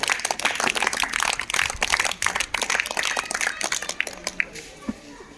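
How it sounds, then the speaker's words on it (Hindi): Brisk applause from students gathered at a school morning assembly: dense, overlapping claps filling the space, thinning toward the end. "बिना समय गवाए मॉर्निंग असेंबली की शुरुआत सदैव की तरह जोरदार तालियों के साथ करें।"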